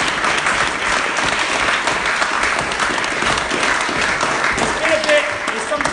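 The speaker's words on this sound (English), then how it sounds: "I want to give them a round of applause for being on the platform" A crowd at a parliamentary political launch event gives MPs on the platform a loud, steady round of applause that fills the room, with faint chatter underneath.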